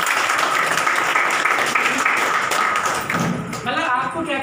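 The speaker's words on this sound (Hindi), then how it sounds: "सबके लिए जबरदस्त ताली बजाएं" Audience applause at the opening event of an education center, dense and loud, holding steady for about four seconds before thinning with scattered louder claps and a bit of voice noise near the end.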